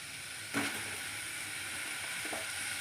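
A large cut onion fries in a pan on a stove, giving a steady, faint hiss with a couple of brief clatters from stirring.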